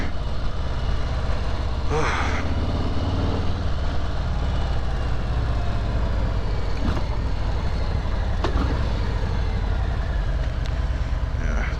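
A 2018 Harley-Davidson Street Bob on a test ride gives a continuous low, rumbling engine drone with wind noise, steady and close throughout, with a few brief mechanical clicks.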